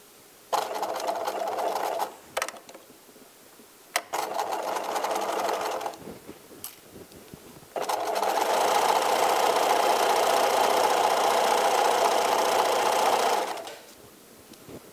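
A sewing machine stitching fabric runs in several bursts, two short runs separated by pauses, then a longer, louder steady whirring stretch, heard close with no talking.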